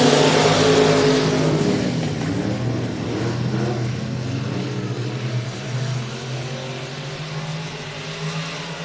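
IMCA modified race cars roar around the I-37 Speedway dirt track on the final lap, a dense loud engine drone that slowly fades as the pack moves away, with no speech.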